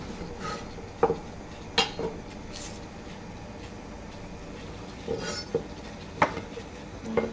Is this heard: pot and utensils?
yes